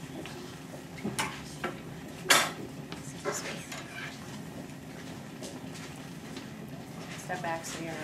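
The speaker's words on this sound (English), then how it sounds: "Can's starting to rattle, water's boiling." An aluminum pop can with water boiling inside rattles on the heat, giving faint, scattered clinks and ticks over a low background hiss, with voices nearby.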